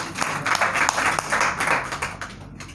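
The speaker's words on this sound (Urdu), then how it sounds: "ایک بار زوردار تالیوں کے ساتھ" An audience at an Urdu poetry gathering (nashist) in Delhi claps in an uneven burst of applause that gradually thins and fades toward the end.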